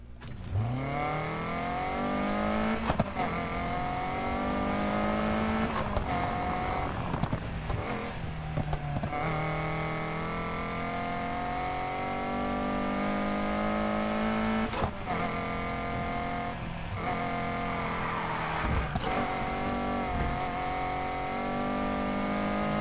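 Racing car engines in a Need for Speed sprint race at night, a loud continuous whining roar rising and falling through repeated gear shifts, close and steady for the whole stretch.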